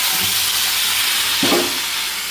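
Chicken pieces hit hot oil with fried onions in a home kitchen pan, giving a loud, steady broadband sizzle and hiss throughout, with a brief burst of spattering midway.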